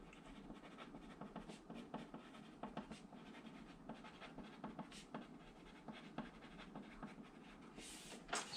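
Pencil writing a title on drawing paper, quick faint scratchy strokes in irregular bursts, close and alone.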